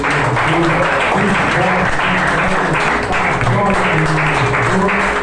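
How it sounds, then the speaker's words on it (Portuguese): Congregation clapping together during a church service, steady sustained applause filling the room, with voices singing or speaking underneath. "aplaude a palavra do Senhor"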